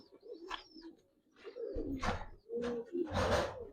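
Giribaz pigeons of the coloured Hurricane type coo close by in several soft, throaty bursts, with rough, breathy rises and pauses between calls.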